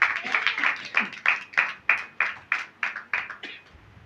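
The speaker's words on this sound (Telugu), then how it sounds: "చప్పట్లు కూడా ప్రభు నామమును మహిమపరచండి." A church congregation clapping hands in a steady, rhythmic beat, about a dozen sharp claps spaced evenly, fairly close and clear, with faint voices underneath.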